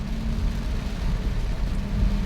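Heavy rain from Typhoon Carina roars as a steady, dense wash throughout the trip.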